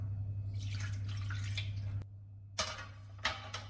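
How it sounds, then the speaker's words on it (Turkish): Water from a large glass is poured into a baking tray of eggplant kebabs, a soft trickling splash that runs for about two seconds and then cuts off, followed by a few faint drips and light clinks. "Böyle tepsimin içerisine büyük bir su bardağı su ekliyorum."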